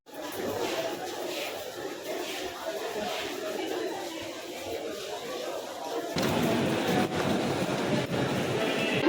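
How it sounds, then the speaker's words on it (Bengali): Local commuter train in Bengal heading to Belgharia station, a steady rumbling ride with continuous wheel and carriage noise that grows louder and rougher partway through, under faint passenger chatter. "লোকাল ট্রেনে উঠে গেছি"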